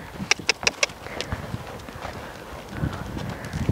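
Horses' hooves cantering in a riding lesson arena, with a quick run of four sharp, loud hoofbeats up front, followed by softer, irregular thuds and some fainter hoof and arena noise.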